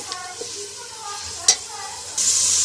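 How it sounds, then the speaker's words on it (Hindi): Chicken fries and is stirred in a pan, a quiet steady sizzle with a few soft scraping clicks and one sharp clink, then the hiss grows louder and brighter near the end. "हम इसमें चिकन ऐड करेंगे जो हमने रखा था। अब हम इसको अच्छे से भून लेंगे।"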